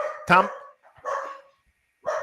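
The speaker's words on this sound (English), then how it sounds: "You can't hear that dog in the background?" A dog barks in the background of a sports talk show, a few sharp yipping barks spaced about a second apart, with voices talking nearby.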